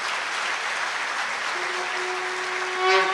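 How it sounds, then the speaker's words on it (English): Audience applause at a medicine and health sciences graduation ceremony, a steady wash of clapping from a large crowd that holds even throughout and swells slightly near the end, with no voices over it. "Please give them a round of applause."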